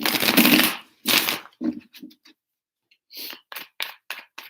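Tarot cards shuffled by hand give two long riffling bursts, then a few short flicks and a quicker run of crisp snaps after a brief pause, close and clear with no voice.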